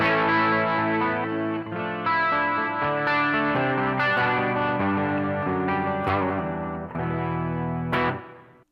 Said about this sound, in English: So this is a Telecaster with open G tuning. 12-string electric.